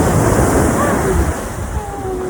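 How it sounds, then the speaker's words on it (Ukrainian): Black Sea waves break and wash up a beach at Chornomorsk in winter, a loud, close surge of churning water and spray with steady wind noise on the microphone. "Все хвиля все тебе накрила"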